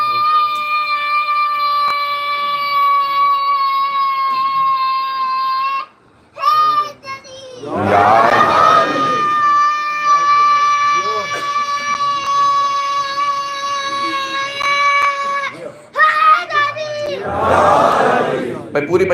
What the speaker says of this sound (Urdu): پوری مجلس کے نعرے ہو گئے آج